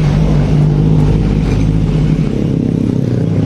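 A 2019 Honda Beat scooter with its starter cranking but the engine failing to catch, a loud continuous droning whir with a steady low buzz, close up and without speech.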